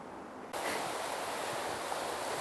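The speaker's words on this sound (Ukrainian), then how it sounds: "а за ним хвилі плещуть." Waves wash against a snowy Lake Michigan shore in Chicago in winter, a steady broadband surf roar that swells in abruptly and then holds loud and continuous, with no voices.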